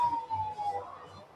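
An ambulance siren wails steadily at a Fourth of July parade on a main street in Warren, Vermont, heard at moderate distance over low crowd and engine rumble.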